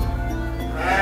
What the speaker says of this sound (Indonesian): Bisa kita saksikan domba bakalan F1-nya